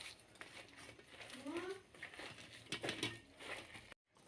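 Blended lentil paste is mixed by hand with chopped onion, dried chili powder, salt and turmeric: soft squelching, pressing and crushing sounds at close range, with someone talking over them.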